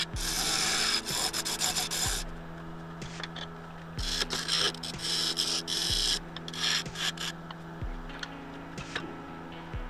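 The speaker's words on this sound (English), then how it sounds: "I'll switch from my big bowl gouge to my little bowl gouge" A small bowl gouge cuts wood on a spinning lathe, giving a steady close rasping scrape that swells and eases in repeated surges over a low rotating hum, with no talking.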